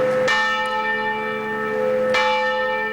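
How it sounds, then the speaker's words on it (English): Church bells toll in mourning across Virginia, two deep, resonant strikes about two seconds apart, each ringing out and slowly decaying with a long sustained hum. "Bells tolled around Virginia and around the country today"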